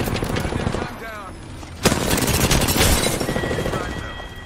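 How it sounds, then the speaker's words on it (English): Gunfire in the video game Apex Legends rattles in rapid bursts with a sharp loud crack near the middle of the clip, over game sound effects and a brief voice. "I'm spotted. Taking fire."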